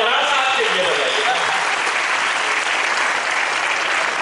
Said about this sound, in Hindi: अगर आप चाहते हैं तो जोरदार तालियां कराड़ साहब के लिए बजाइए